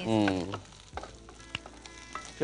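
Peanuts frying in a pan, a dense sizzle with a few sharp clinks and scrapes as they are stirred, close and moderately loud with no voices.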